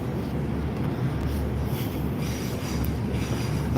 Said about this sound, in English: There's your train, your Transpennine Express.